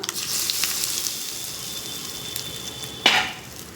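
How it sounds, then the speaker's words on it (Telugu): Hot oil sizzles steadily and crackles throughout as a tempering for tomato chutney fries, with a sharp burst of spitting near the end as more goes in. "ఇప్పుడు ఒక మంచి తాలింపు వేసేసుకుందాం"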